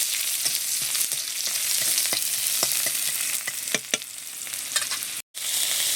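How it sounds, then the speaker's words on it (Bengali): Chopped onion sizzles in hot oil in a pan, with cumin seeds added earlier, as a spatula stirs it with repeated scraping taps over a steady frying hiss, close and fairly loud, briefly cutting out near the end. "পেঁয়াজটাকে নেড়ে চেড়ে নিচ্ছি"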